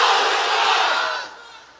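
A large crowd of unmarried men at an Islamic sermon gathering roars a takbir response in unison, a loud massed shout held for about a second before trailing off.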